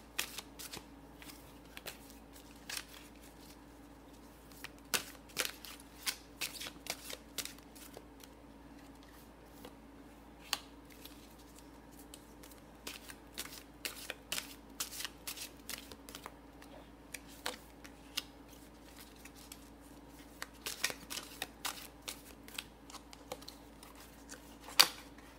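Tarot cards are shuffled for a reading, with quiet, close, irregular bursts of riffling and slapping cards scattered through a long stretch with no talk.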